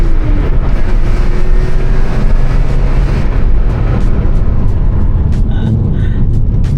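BMW E46 M3 on the road, a loud steady engine drone and tyre and road rumble from inside the car, with wind buffeting throughout and a slight shift in engine pitch partway through.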